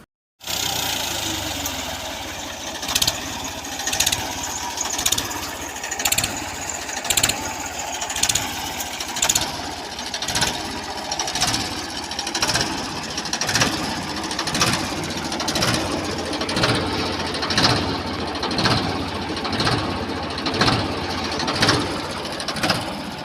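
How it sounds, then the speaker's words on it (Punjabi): A 1995 Ford 3600 tractor engine runs at idle nearby, a steady diesel rumble with a regular, pulsing knock repeating about once per second, alone without talk. "ਹੁਣ ਟਰੈਕਟਰ ਦੀ ਆਵਾਜ਼ ਚੈੱਕ ਕਰ ਲਓ"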